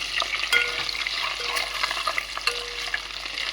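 Eggs fry in a pan for a prawn, okra and egg curry, giving a close, steady sizzle with small crackles and pops, without any speech.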